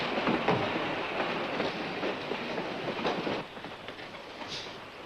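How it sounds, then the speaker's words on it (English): Train rolling along the rails with a steady rumble and rhythmic clickety-clack of wheels on track joints, moderately loud and close, with no voices over it. "Stop the train."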